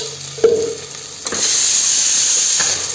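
Onions frying and sizzling in hot oil in a pan for a village-style chicken curry, a short stirring scrape and then a loud, steady sizzle close up.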